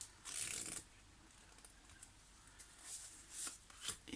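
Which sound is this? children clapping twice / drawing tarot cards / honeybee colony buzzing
drawing tarot cards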